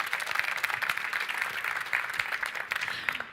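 An audience at a Citroën press conference at the Geneva Motor Show applauds with dense, steady clapping that fills the room throughout, with no pause.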